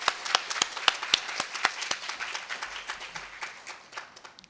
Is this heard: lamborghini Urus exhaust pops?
no